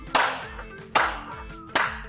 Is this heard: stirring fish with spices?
no